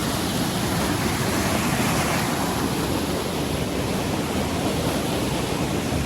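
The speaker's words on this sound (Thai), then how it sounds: "น้ำตกสวยมาก" A forest waterfall rushes steadily, a loud, dense, unbroken roar of falling water close to the microphone, with no voices.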